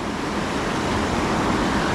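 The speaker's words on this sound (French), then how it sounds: "Une magnifique rivière à truites." Continuous dense hiss of a fast-flowing trout river in the Corsican mountains, even and fairly loud across the whole stretch with no voices.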